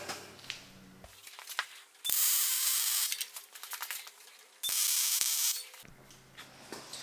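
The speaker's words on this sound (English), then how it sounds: "Let's get that welded up." A steel angle grinder stand is welded in a workshop: two loud, sustained bursts of harsh crackling hiss, each lasting a couple of seconds, separated by quieter scraping and a low background hum.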